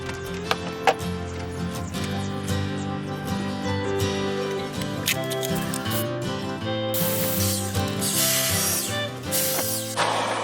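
Over a bed of background music, a spray can hisses in loud bursts near the end, close by and harsh, spray painting furniture.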